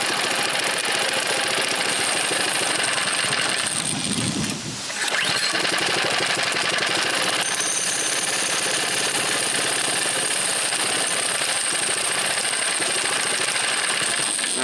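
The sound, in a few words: Predator small engine running at raised idle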